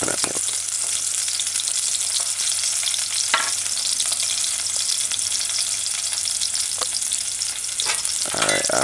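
Scotch bonnet pepper sautéing in coconut milk makes a constant bright, hissing sizzle, close and steady, with a few faint stirring clinks and no talk.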